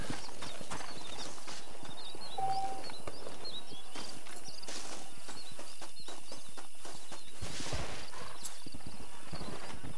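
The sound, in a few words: horse hooves and neighing, video game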